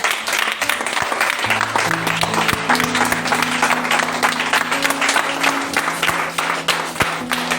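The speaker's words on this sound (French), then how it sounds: "Acclamez pour le Seigneur Jésus." A church congregation at a Sunday service claps and applauds loudly and continuously, dense hand claps layered over a sustained organ or keyboard chord underneath.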